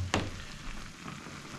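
Zucchini, green onion and other vegetables sizzling in a hot pan for a spicy seafood noodle dish, a steady close frying hiss with a sharp clack near the start.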